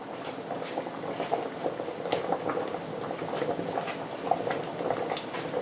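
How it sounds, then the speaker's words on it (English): Potatoes boil in a pot for mashed potatoes, giving a steady close bubbling and popping simmer with small irregular gurgles throughout and no voices. "23 minutes that I've been boiling potatoes"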